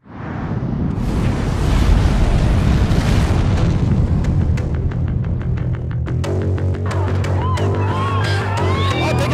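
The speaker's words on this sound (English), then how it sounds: "Explosion has just occurred." A huge explosion booms in the tactical shooter Ready or Not during a recreated Abbottabad raid, a loud roaring rumble that sustains and settles into a lingering low drone with crackling debris and ringing tones.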